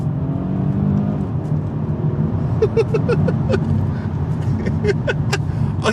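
A Kia Stinger GTS, rear-wheel drive, accelerates in second gear on a public road, its engine droning steadily from inside the car with a rising whir and some clicking.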